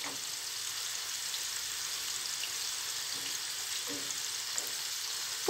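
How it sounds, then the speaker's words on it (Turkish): Onions frying in a pan for Turkish yayla soup, a steady soft sizzle continuing throughout with a few faint stirring clicks, close and moderate in level with no talking. "gördüğünüz gibi soğanlarım kavruldu."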